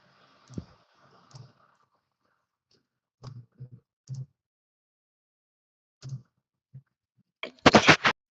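A single sharp sneeze bursts out loudly near the end, after a stretch of faint scattered clicks and small mouth or handling noises during a tabletop role-playing session.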